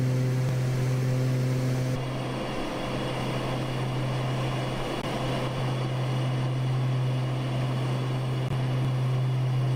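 Steady drone of the BKSQ Starship aircraft's engines in Microsoft Flight Simulator 2024, a constant loud hum with a strong low tone held evenly throughout, without speech.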